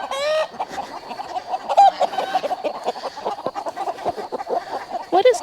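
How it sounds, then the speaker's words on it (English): A chicken stuck in a fence clucks and squawks close by in a rapid, agitated stream, with sharper cries at the start and end. "I think is a chicken stuck in the fence"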